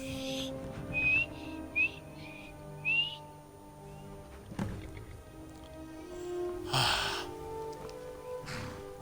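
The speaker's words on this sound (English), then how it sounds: "I can't whistle for nothing." A person trying to whistle, producing several short, thin, wavering whistle attempts in quick succession over a quiet hum of background sound, followed by a few scattered knocks and rustles.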